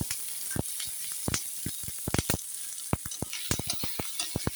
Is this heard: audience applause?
no